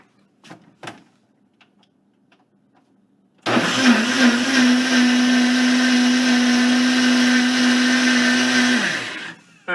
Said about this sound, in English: I'm going to throw it on the blender